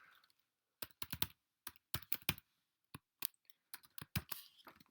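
Clicks of a computer keyboard as a code comment is typed, coming in short irregular bursts of keystrokes with brief pauses between them, close and fairly quiet, with no talking.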